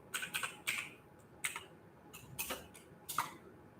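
Keys on a computer keyboard are tapped in quick irregular bursts of clicks, close and fairly quiet, with no talking.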